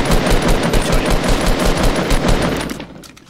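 Rapid gunfire in the Fortnite battle royale video game, a dense, loud stream of automatic shots rattling steadily for about three seconds before tapering off, with no talking.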